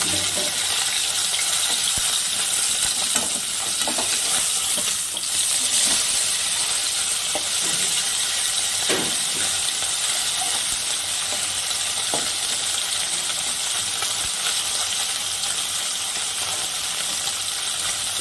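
Small river fish, turned over, keep frying in mustard oil with a loud, even, close sizzle and crackle throughout, broken by a few faint utensil knocks.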